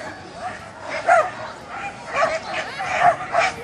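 A dog barks repeatedly at a UK agility competition, several short yips and bow-wow barks in an uneven rhythm over about three seconds, fairly close, with faint background murmur of the event.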